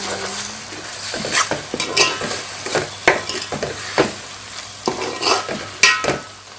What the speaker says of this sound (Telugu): ఇప్పుడు దీంట్లోకి మనం అల్లం వెల్లుల్లి పేస్ట్ అండ్ పసుపు యాడ్ చేసి మళ్ళీ ఒకసారి మిక్స్ చేద్దాం.